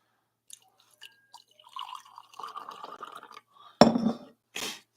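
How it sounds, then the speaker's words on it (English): Ka'u Classic Dark Roast coffee from Ka'u, Hawaii poured into a glass: a trickling, bubbling pour with soft clinks, followed by two louder knocks of glass or dishware near the end, with no talk. "We're going to do some pouring."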